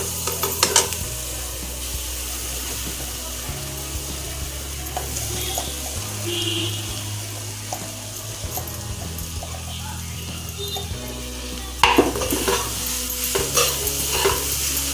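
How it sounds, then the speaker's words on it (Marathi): Minced soybean bhurji frying in a pan, with continuous sizzling under repeated scraping, clattering stirs of a spoon, close by, growing busier and louder near the end. "आता हे छान हलवून घेतल्यानंतर आपण बारीक केलेलं सोयाबीन ह्याच्यामध्ये टाकणार आहोत।"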